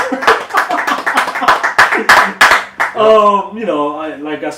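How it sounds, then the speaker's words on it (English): A few people clapping close up in a small room during a casual comic book discussion, a quick burst of loud, sharp hand claps for a couple of seconds, followed by voices laughing and chuckling. "Round of applause. Round of applause."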